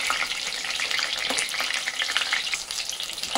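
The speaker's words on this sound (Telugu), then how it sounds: "ఇలా బజ్జీలను తిప్పుకుంటూ 2 సైడ్లు మంచిగా డీప్ ఫ్రై చేసుకోండి." Mirchi bajji, chilli fritters in batter, crackle and sizzle steadily as they deep fry in hot oil, a dense bubbling hiss close up with no voices.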